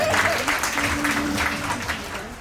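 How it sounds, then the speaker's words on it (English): A cruise ship show audience gives Davide a steady round of applause, a dense wash of clapping with faint voices mixed in. "Let's give Davide a round of applause"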